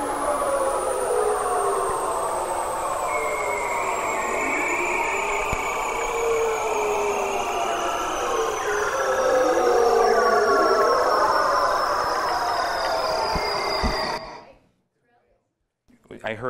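Eerie sweeping trills and descending whistles from a seal mating call, recorded underwater, continuing steadily before cutting off abruptly near the end.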